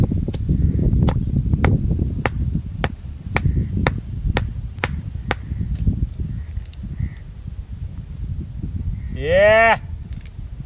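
A single drawn-out moo from cattle rises near the end, after a steady series of sharp rhythmic chopping knocks from a sickle over an outdoor background hum.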